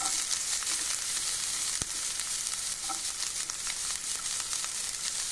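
Finely chopped medium onion hisses and sizzles steadily in a hot pan for tomato chutney, a close, continuous frying roar with one sharp knock partway through.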